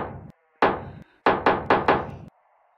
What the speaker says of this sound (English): put the hammer down over here.